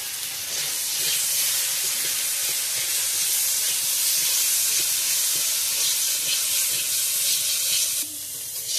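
Cumin, green chili and ginger paste frying in a pan with potatoes, a steady close hiss and sizzle with faint stirring scrapes, ending in a brief quieter moment.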